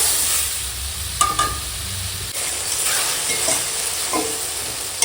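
Katla fish frying in oil with dried chili and turmeric powder, a steady close sizzle broken by a few clinking stirs and scrapes of a spatula in the pan.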